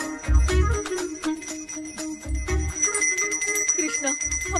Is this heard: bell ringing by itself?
yes